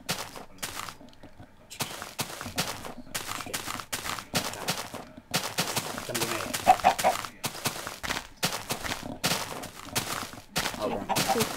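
Chickens in the Minecraft video game cluck in a long series of short, loud, closely spaced bursts, with only brief gaps between them.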